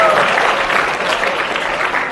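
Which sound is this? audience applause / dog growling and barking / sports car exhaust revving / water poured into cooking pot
audience applause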